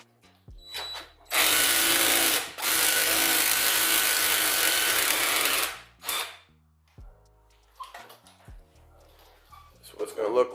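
Power tool, likely an impact wrench, loosening brake caliper guide pin bolts during a vehicle brake upgrade: a loud steady whir for about four seconds, a short burst after, then quieter clanks and handling noises.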